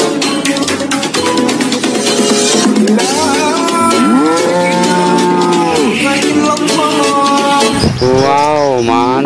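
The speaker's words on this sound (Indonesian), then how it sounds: "Sapi penghasil susu." A dairy cow moos in several long, loud, drawn-out calls, set against bright bird-like chirps and other toy-animal sounds, with a higher wavering cry near the end.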